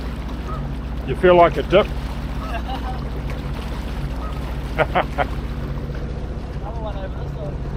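A two-stroke jet ski engine drones steadily on the water, a constant low hum with wind, while people speak briefly over it.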